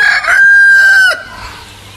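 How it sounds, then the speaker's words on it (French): A single rooster crow, loud and close, with a long sustained middle note that cuts off sharply, followed by faint background noise. "Le coq."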